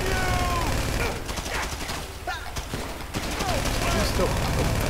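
Gunfire in GTA 5 Online rattles as fast bursts and scattered shots throughout, mixed with game noise while players talk over it.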